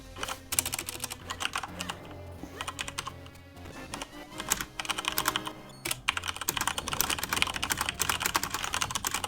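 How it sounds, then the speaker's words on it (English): Rapid typing on a computer keyboard comes in dense bursts of sharp clicking keystrokes, close and fairly loud, with brief pauses between runs and no voices. "Sorry for the keyboard."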